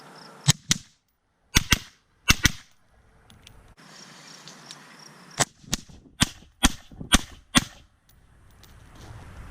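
Rifle shots fired by a shooter wearing a gas mask, sharp loud cracks in uneven bursts with quiet gaps between them, about nine shots in total, with no talking.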